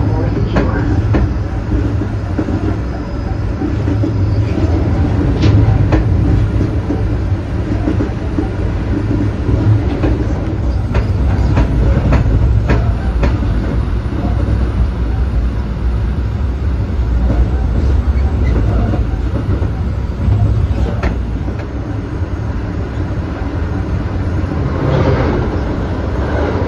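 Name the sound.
Metra BNSF commuter train riding on the rails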